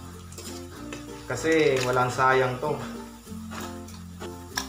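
Steady oil sizzle of small mackerel scad (galunggong) frying crisp in a pan, continuous throughout, with someone talking over it.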